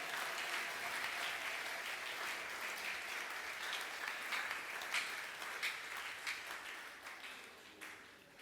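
Church congregation applauds after two scripture readings, a sustained wash of many hands clapping at moderate distance, steady for several seconds then thinning and fading toward the end.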